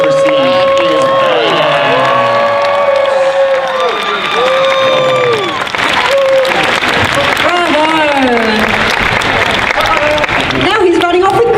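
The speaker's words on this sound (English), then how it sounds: "Big round of applause for all our amazing designers." A large crowd at the Dragon Con Friday night costume contest in Atlanta applauds and cheers with whoops throughout, loud and sustained, while an announcer talks over the noise.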